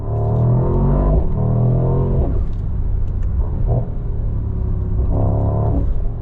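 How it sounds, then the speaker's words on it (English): A 2023 Mercedes SL63 AMG engine revs loudly and close, rising and falling in a deep throaty drone over several throttle blips, with short fluttering dips as boost builds and is released. "It's got this really nice turbo flutter to it if you get it just right when you build boost and let off."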